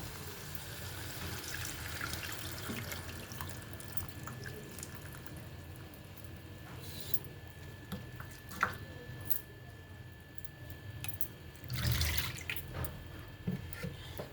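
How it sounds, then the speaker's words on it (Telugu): Tamarind water pouring and splashing into a pot, a steady wet gush with a few drips and a louder splash near the end, no talking. "ఇప్పుడు చింతపండు పులుసు పోసేద్దాం."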